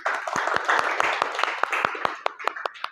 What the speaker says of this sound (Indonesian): Baik, tepuk tangan buat semuanya.